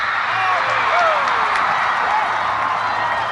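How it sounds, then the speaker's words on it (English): Stadium crowd roaring at a Bhutan versus Sri Lanka World Cup qualifier football match after a dangerous free kick goes wide, a dense, steady wall of cheering with a few rising whistles and shouts over it. "And the crowd goes wild"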